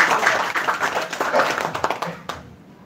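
A small group claps for the third team at a village development training session, a brief patter of hands mixed with murmured voices that fades out near the end.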